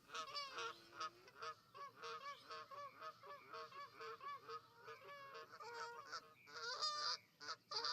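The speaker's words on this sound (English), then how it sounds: "whoever told you to just put geese noises everywhere in this particular map, fire them" Many geese honk continuously in the Fishing Planet fishing video game, with overlapping nasal calls forming a dense, steady chorus in the background.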